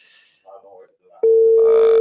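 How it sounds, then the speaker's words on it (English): A phone call is placed. A few faint tones and a voice come first, then a loud, steady line tone starts abruptly and holds, with a softer second tone layered on top near the end. "Mr. Martin, phone is ringing."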